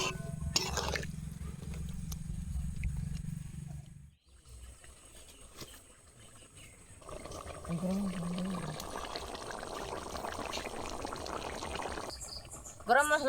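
Water pours into a pot of potatoes and spices cooking over a fire outdoors, a steady rushing splash building in the second half, with voices talking before and during.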